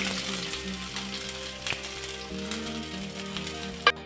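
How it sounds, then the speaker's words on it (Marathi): Chopped onion sizzles in hot oil in a kadhai, a steady close frying hiss with faint low hum and a sharp clink near the end. "तेल चांगलं तापलं की त्यामध्ये एक प्लेटभर चिरलेला कांदा घालायचा आहे"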